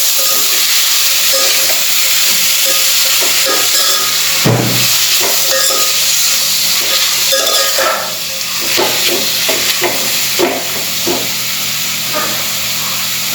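Salted pork sizzles loudly in a hot pan for a Goan coconut curry, with a constant hiss of frying and close scraping clatters as it is stirred.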